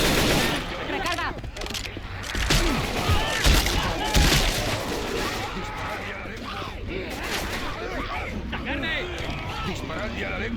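Rapid gunfire bursts and weapon sounds from the zombie shooter game Left 4 Dead 2, dense and loud throughout, overlapping with character voices and shouting.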